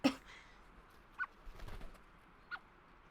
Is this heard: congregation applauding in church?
no